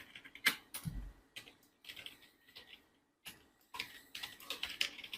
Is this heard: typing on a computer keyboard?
yes